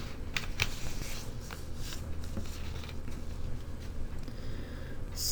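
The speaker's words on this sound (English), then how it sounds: "I'll fold this in half so you can see it." A sheet of paper is folded in half, a close, quiet papery rustle with a few soft crinkles and creases over a faint background hiss.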